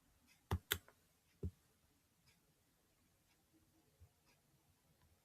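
A few sharp key clicks from typing on a computer keyboard, clustered near the start with a couple of isolated taps later, faint and alone in a quiet room.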